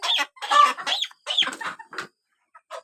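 Several chickens on a poultry farm cluck in short, close bursts, one after another, then trail off into sparse single clucks, with no talk.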